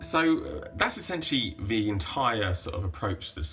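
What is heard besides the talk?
No everyday noise stands out behind the speech.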